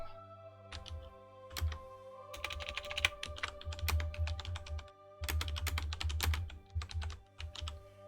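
Typing on a computer keyboard, irregular bursts of crisp key clicks coming in clusters with short pauses, close and fairly quiet, with no talking.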